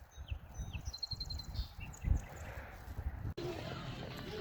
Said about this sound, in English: We got a song sparrow up there.